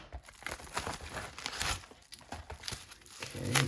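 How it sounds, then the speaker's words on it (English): Someone cuts open a taped mail package holding graded trading cards, producing close, crinkly tearing and rustling with scraping cuts in irregular bursts, with no talking. "I try to cut this package open"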